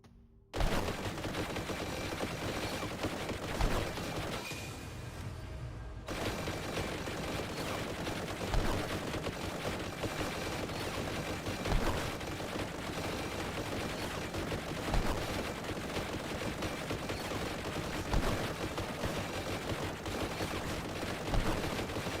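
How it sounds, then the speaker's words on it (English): Whirlwind missile battery explosions in Warhammer Survivors fire in dense, rapid bursts, a loud continuous barrage of crackling blasts with regular heavier thumps and a short lull near the start. "I'm not sure why there's grenades going off. Oh, it's the... No, I do. It's the whirlwind missile battery."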